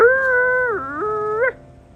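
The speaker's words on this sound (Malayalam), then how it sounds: "കുരയ്ക്കുന്നു." A dog stranded on a house roof lets out a single loud, close howl lasting about a second and a half, wavering in pitch before breaking off.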